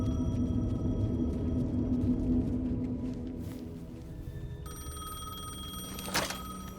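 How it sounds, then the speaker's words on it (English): Payphone in the video game Alan Wake 2, a ringing telephone tone over low ambient rumble, with a brighter ring burst starting later and a short sharp clunk near the end. "The payphone was ringing."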